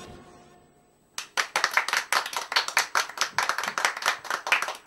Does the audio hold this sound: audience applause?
yes